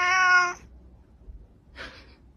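A cat gives one loud, drawn-out meow up close, then after a short pause lets out a shorter, fainter cry, with no talking.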